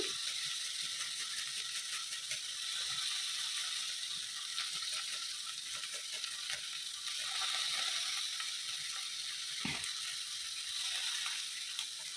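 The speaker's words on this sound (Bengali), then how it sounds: "একটু আদা ঘষে দিচ্ছি" Ginger being rubbed on a grater while cooking dim posto, a steady scraping rasp with quick repeated strokes, close and fairly loud, continuing without break and with no talk.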